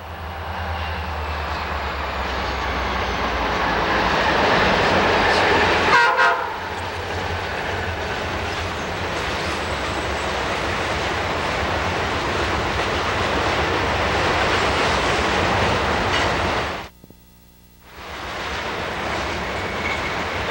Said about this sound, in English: a coal train with two SD-40-2s on the point and another two of the same at mid-train